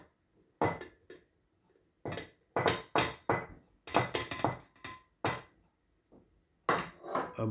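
A banana, then other pieces, dropped into a blender jar for a banana and mango ice cream milkshake, giving a run of hard knocks and clatters at uneven intervals with short gaps between them, close by and fairly loud.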